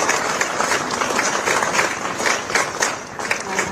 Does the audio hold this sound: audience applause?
yes